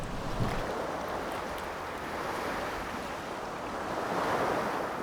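Sea waves washing onto the shore of a Jeju fishing village, a continuous surf rumble swelling and easing, with wind buffeting in the background and no voices.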